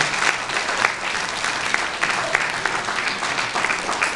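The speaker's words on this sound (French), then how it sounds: "Les applaudissements, c'est le salaire de l'artiste." An audience at a comedy show claps steadily, many hands at a moderate level with a few sharper individual claps standing out from the mass.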